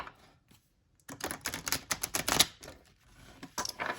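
Rapid crisp bridge shuffling of stiff playing cards, a burst of dense clicking flutters after a short quiet start, close by with no talking.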